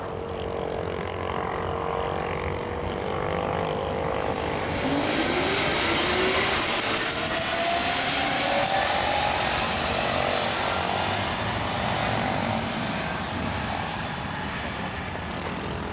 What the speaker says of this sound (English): Both of them electric motorcycles.